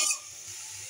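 Green peas frying in a pan give a brief hiss that fades quickly into a low, steady sizzle.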